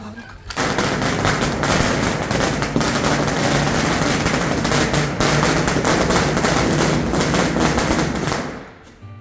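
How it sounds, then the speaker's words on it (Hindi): A long, dense burst of firecrackers set off for Chhoti Diwali, crackling rapidly and loudly for several seconds, then trailing off abruptly. "फाइनली हम लोगों ने पटाखे भी फोड़ लिए"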